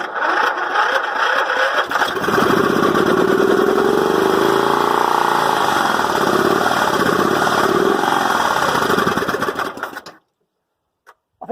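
A Westwood garden tractor engine running on 2-stroke fuel, with choke and throttle worked by hand, catches after a couple of seconds and runs loud and buzzing close by for about eight seconds before cutting out abruptly into silence.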